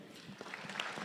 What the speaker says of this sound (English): let's give Madam Eunice Lumalas a better hand clap.